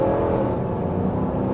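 Steady engine drone of a 2025 Dodge Durango R/T under acceleration on a test drive, a continuous low rumble heard from inside the cabin with no talk.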